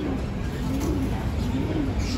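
Racing pigeons, stock cocks and hens, coo in a low continuous murmur inside a loft in Mandaluyong City, with steady background noise throughout.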